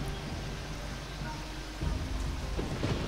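Steady rain pours in a thunderstorm in the video game Risen, with a low rumble of thunder swelling partway through, moderately loud and continuous under faint background noise.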